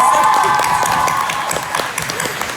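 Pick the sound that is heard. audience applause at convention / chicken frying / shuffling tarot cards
audience applause at convention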